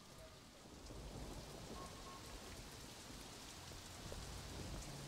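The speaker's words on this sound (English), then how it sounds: "It's funny because it's actually thunder and lightning in the game as well." Steady, even rain pours throughout a nighttime scene in the open-world game Sleeping Dogs, with a faint low thunder rumble underneath and no voices.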